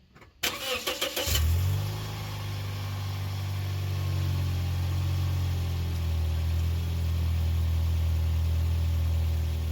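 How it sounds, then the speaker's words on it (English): A Toyota Yaris engine with a newly replaced muffler cranks and catches, then settles into a steady, low, even idle heard up close. "I'm gonna start the engine"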